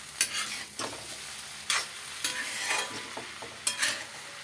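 A fried fish head is stirred in a frying pan, the sizzle swelling in repeated bursts as a spoon scrapes and turns it, with clear knocks between the strokes.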